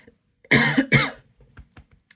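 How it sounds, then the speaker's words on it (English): Two loud, harsh coughs come close together near the mic, followed by softer throat sounds and quiet clicks. "these coughs are coming out of nowhere"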